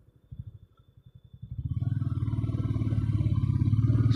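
A motorcycle climbs a hill road in third gear, its engine thumping in slow distinct pulses that quicken into a steady, loud, close drone as revs build.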